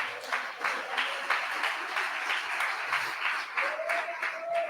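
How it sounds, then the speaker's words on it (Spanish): Church congregation applauding at a sermon, a steady wash of clapping from many hands held at even strength throughout, with a brief voice rising near the end. "Bríndele un aplauso al Señor."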